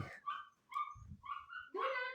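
Young puppies yip, bark and whimper close by in short high-pitched bursts separated by brief pauses, ending in a longer whining yelp.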